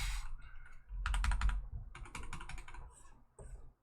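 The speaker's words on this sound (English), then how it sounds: "Now every time I press a key on my keyboard, I hear the variation of womp." Rapid clattering keystrokes on a computer keyboard fitted with a womp sound mod, coming in dense bursts with brief pauses, close and loud, with no voices.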